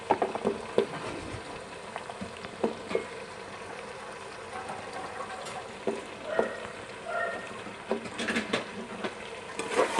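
Potatoes fry with spices in a pan, giving a quiet, steady sizzle with soft scattered crackles and occasional stirring scrapes, close and unhurried.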